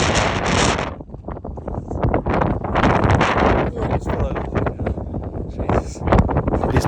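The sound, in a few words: strong wind on the summit of Snowdon mountain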